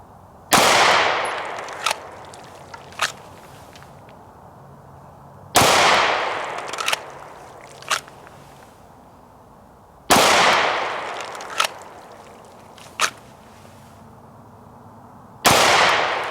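Three sharp pistol shots, each followed by one or two fainter echoing cracks, fired outdoors while test firing a handgun fitted with Trijicon HD XR night sights; loud, spaced about five seconds apart, no talk.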